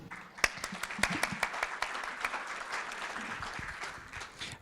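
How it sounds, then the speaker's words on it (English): An audience at an HR congress breaks into warm applause, a steady dense patter of many hands clapping, heard from a little distance and moderately quiet. "give a very warm applause for the fantastic professional ladies"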